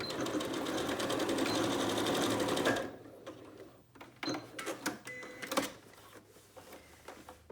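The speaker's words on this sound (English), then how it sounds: "We're gonna start and sew this beginning part." A sewing machine stitches jogger fabric in a fast, even rattling run for almost three seconds, then stops, leaving soft clicks and handling noises up close.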